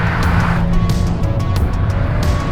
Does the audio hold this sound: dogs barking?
no